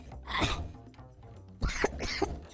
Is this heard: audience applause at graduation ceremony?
no